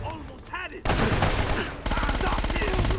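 Gunfire in a combat scene from Uncharted: Drake's Fortune, with a heavy shotgun blast to an enemy's face among rapid bursts of shots. Dense, loud, overlapping reports fill the scene after a brief quieter lead-in.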